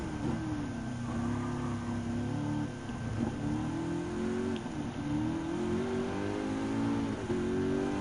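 A 1989 fourth-generation Chevrolet Corvette races in Gran Turismo 7, its mid-pitched engine droning steadily with rising and falling revs under load, moderately loud and continuous throughout.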